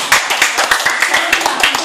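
Children clap together in a classroom, a ragged burst of roughly a dozen sharp, close claps in an uneven rhythm, fairly loud and with no voices over them.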